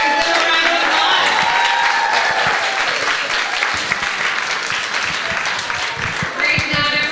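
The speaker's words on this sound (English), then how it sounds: "Give a round of applause." Audience applause with scattered cheering for the first-place team at the 2022 USA National Puzzle Championships team event, a dense, loud, sustained wash of clapping lasting the whole stretch, with some voices mixed in.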